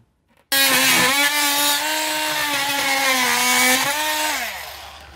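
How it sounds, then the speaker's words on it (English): A power tool cuts back drywall during cabinet prep, a loud, steady whining buzz that starts abruptly, holds its pitch for several seconds with slight wavering, then winds down as the motor slows. "Who needs a drywall knife when you can use ridiculous power tools that don't really apply to this project?"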